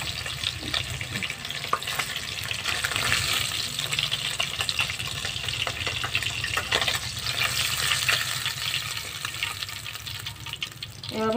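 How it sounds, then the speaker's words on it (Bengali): Bhola fish frying in oil fills the space with a continuous dense sizzle, loud and close, with watery crackling textures throughout. "মাছটাকে ভেজে নিচ্ছি"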